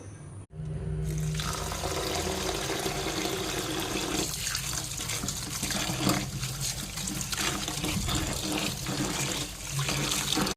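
Steady, fairly loud running water pours from a tap into a vessel for soaking freshly cut bamboo shoots, starting abruptly after a short pause and continuing as a constant rushing flow with slight changes in splash.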